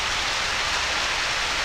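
Steady rain falls in the Harvest Moon: Back to Nature video game, a dense, even hiss of rainfall with no other sounds and no voices.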